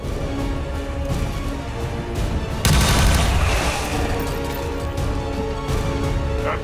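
Gunfire from soldiers in the XCOM 2 strategy game against a muton alien, a loud burst of shots and booming impacts over a dense, rumbling battle backdrop with no talking.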